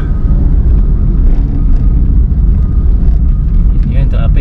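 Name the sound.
road traffic, cars and engines in a traffic jam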